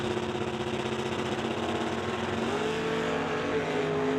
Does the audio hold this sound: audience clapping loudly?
no